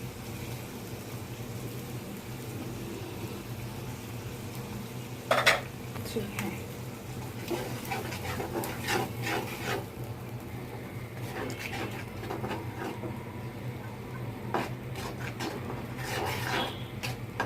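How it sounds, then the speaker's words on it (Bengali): A spice paste of salt, turmeric, coriander-cumin powder, chili powder and white mustard paste is stir-fried in a pan, heard as low sizzling under repeated spoon scrapes and clinks against the metal, close and intermittent. "মশলাটা আমি ভালো করে কষিয়ে নিব।"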